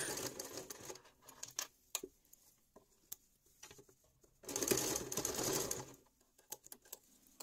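A sewing machine stitches pinned denim triangles for a backpack made from old jeans, using a zipper presser foot; short stitching bursts and clicks come first, then a steady, louder run of about a second and a half, then scattered taps.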